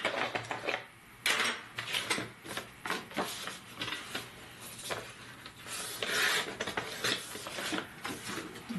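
Scissors or a blade cut along 300 gsm cardstock in a run of close, scratchy rasping strokes with small clicks, steady and fairly quiet, with no talking.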